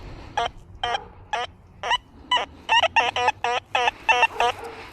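About a dozen short, buzzy electronic iron tones from a metal detector pulse in a rhythm over a quiet background, coming closer together toward the end.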